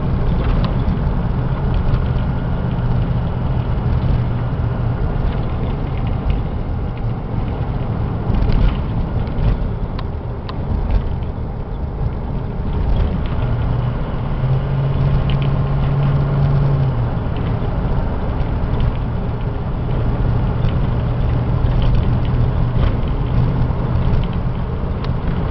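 A 2005 Ford E350 diesel box truck driving at easy speed, with a steady low engine drone and road rumble that continues unbroken throughout, heard from inside the cab.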